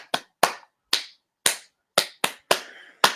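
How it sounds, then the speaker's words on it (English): A run of eight sharp hand claps in a loose, slightly uneven rhythm, close up and with nothing else heard, played as part of a family drumming game. "the next person claps"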